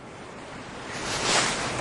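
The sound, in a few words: sugar being poured into a cup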